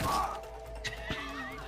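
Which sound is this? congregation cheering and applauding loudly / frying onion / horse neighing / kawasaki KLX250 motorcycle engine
horse neighing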